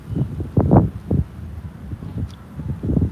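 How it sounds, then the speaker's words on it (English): Gusty wind at Pompano Beach, Florida buffets the microphone in low, rumbling bursts that rise and fall, with no voices. "It's very windy."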